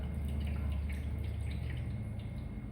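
Water poured and splashing while a child is bathed, a steady low watery gush with faint drips throughout, close and continuous.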